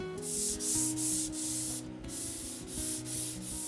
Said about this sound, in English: I'll sand and polish up the fretboard